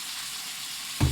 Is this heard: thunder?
no